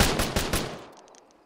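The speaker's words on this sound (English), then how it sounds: "I got machine gun fire coming." In a war video game, a short machine gun burst of about four rapid shots rings out close and loud, then decays into a fading tail with faint clinks.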